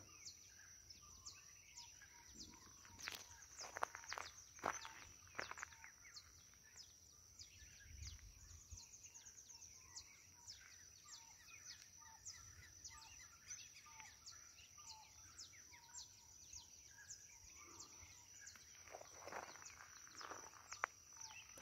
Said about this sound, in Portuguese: Os pássaros começam cedo com seus cantos.